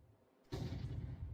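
Grenade blast in Counter-Strike 2 during a tournament match, a sudden heavy boom after near silence, followed by a loud rumbling low roar that sustains to the end.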